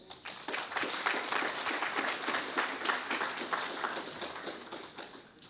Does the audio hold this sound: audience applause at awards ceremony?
yes